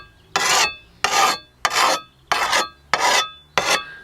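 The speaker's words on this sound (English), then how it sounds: "All you need is a rough file" A rough file sharpens the blade of a garden spade in six steady, evenly spaced rasping strokes, each a loud, close, gritty scrape with short pauses between, and no voices.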